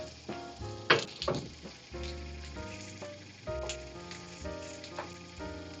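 Garlic and rosemary lamb chops sizzle steadily while being sautéed in a pan, a close crackling hiss with a few louder pops and clatters near the start.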